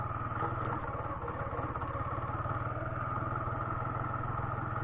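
A Suzuki Intruder cruiser motorcycle rides slowly off-road along a muddy trail, its engine giving a loud, steady, close rumble with a continuous chugging pulse and no speech.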